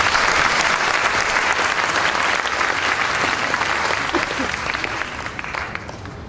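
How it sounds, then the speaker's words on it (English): A large audience at the Euro Attractions Show opening ceremony in Amsterdam applauds loudly and continuously, the clapping dense at first and gradually tapering off toward the end. "Let's give them another round of applause."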